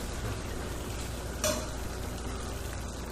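Shrimp scampi frying in a pan gives a steady, close sizzle and crackle with one brief clink of a utensil, and no talking.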